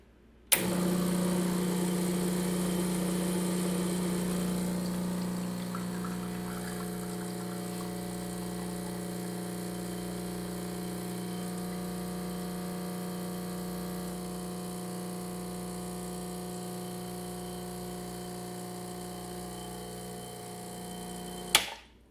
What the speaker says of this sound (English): so that's my first cup of espresso for the morning